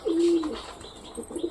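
A pet pigeon gives one short, low coo close by, followed by a few softer, fainter bird chirps.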